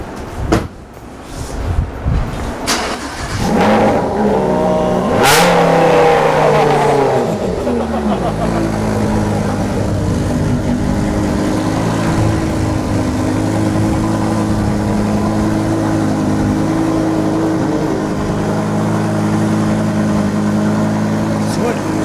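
A car engine with a stock exhaust muffler revs up close and loud, then settles into a steady, droning run while people talk nearby.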